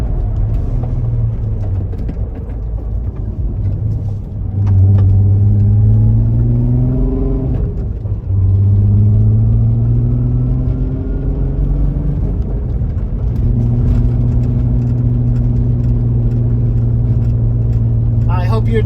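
A car engine revs and settles through gear shifts with heel-toe downshifts and throttle blips, a loud steady drone with rising and falling pitch sweeps heard from inside the car.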